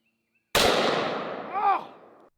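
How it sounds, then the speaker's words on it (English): A single loud gunshot from a large-calibre bear-stopping round: a sharp, close blast with a long ringing tail and a short echo, heard on its own. "this is a bear stopping round. This will stop a bear. So this is a big bullet."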